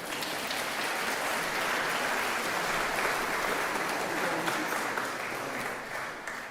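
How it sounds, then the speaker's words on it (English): A room full of people clapping steadily inside Bangor Cathedral at a carol service, a dense sustained applause that holds for several seconds before tapering slightly at the end. "Give him a round of applause for that."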